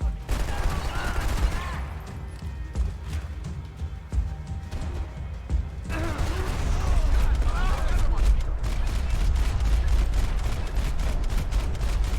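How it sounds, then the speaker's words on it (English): Rapid bursts of video game gunfire crackle continuously over a dense, noisy background, with booming low rumbles and overlapping shots from several directions. "Gunfire over Hoboken."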